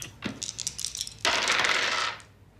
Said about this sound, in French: on brasse les dés pour savoir qui commence